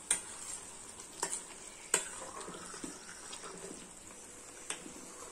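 Hot ghee bubbling and crackling in a pan while butter is rendered, with occasional stirring scrapes and clinks, steady sizzle throughout, no voices.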